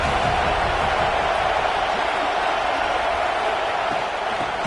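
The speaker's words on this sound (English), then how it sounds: "This crowd ready to make its presence known" A large stadium crowd at a college football game between Washington and Alabama, a loud continuous roar of cheering and noise filling the whole stretch without letup.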